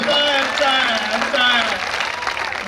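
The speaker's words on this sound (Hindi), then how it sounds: "तालियां कम बजा रहे हो, मेरा मूड बना दो।" Applause from the audience at a Hindi hasya kavi sammelan, a comedy poetry gathering, keeps up a steady clatter for the whole stretch while a voice carries on over it.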